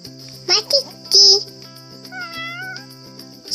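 Several short high kitten meows, some brief and one longer, sound close and clear over a faint steady background hum, with a soft wavering tone afterward.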